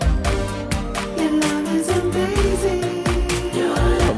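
A music recording of a song plays loudly with a steady beat and layered instruments, and no talk over it.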